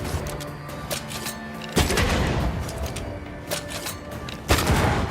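Gunshots in Banishers: Ghosts of New Eden: two heavy, booming reports about three seconds apart, each followed by a rumbling tail over a dense, tense background drone.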